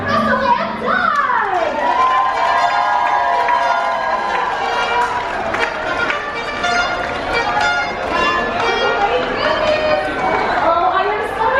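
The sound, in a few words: audience applause and cheering for Russell and Doug on Disney cruise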